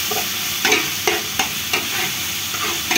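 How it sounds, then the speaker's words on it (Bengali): Garlic frying in hot oil for white pulao, a loud continuous sizzle broken by several sharp stirring scrapes at irregular intervals. "এই রসুনটা ভাজি হয়ে গেলেই আদা রসুন বাটাটা"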